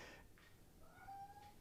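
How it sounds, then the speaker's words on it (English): Pet cat Isa meows from the far side of a door, a few short, fairly faint calls spread over a couple of seconds in a quiet indoor room. "So if you hear a cat meowing in the background"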